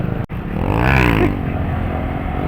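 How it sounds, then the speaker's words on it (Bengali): A Yamaha R15 faired sport motorcycle revs up close, its engine note climbing to a loud rising whine for about a second before easing back to a steady run, after a brief click at the start. "তো ভাই R15 একটা হুইলি মারবো"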